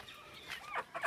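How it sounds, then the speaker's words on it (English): Backyard chickens give a few soft, brief clucks, close but quiet, with nothing else around them. "I'll kind of show y'all some of my chicks and chickens"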